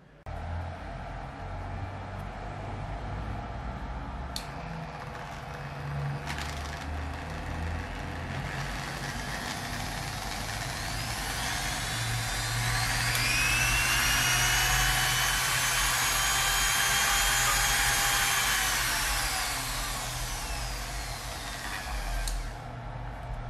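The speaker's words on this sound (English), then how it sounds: "I just run the full power on the grinder" A handheld grinder runs at full power from a solar power setup, a loud continuous whine that swells and holds over a steady low hum of motor and background noise.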